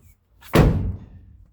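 A race car door that has just had its opener redone swings shut with a single solid slam close by, followed by a short fading rattle.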